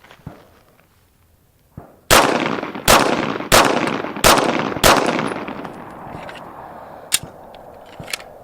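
Five sharp pistol shots fired outdoors in the Arizona desert at a red dot sight, loud and evenly spaced under a second apart, each with a short decaying tail, followed by two fainter distant cracks.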